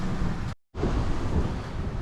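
Wind gusting across the deck of a Lagoon 43 catamaran sailing downwind at sea, a loud buffeting roar against the microphone with wave wash beneath, cut by one brief dropout, then resuming strongly.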